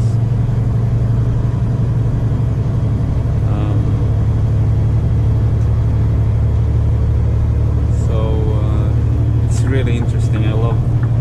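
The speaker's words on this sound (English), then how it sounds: "Look at all these cars" Traffic on a rainy Stockholm road, heard from inside a moving truck: a steady low engine rumble and road noise, with passing cars swelling briefly near the end.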